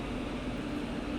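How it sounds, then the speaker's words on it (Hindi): WDG4 diesel locomotive drawing near, a steady low rumble with a constant engine hum, fairly faint and continuous, no voices over it. "और उधर देखो तो डीजल लोकोमोटिव"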